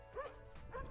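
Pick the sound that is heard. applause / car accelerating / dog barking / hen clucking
dog barking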